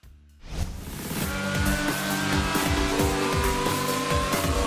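Racing cars in the 2014 Codemasters game Grid Autosport roar at full throttle after a brief quiet start, with a sustained, loud engine whine and a regular rising rhythm of gear changes.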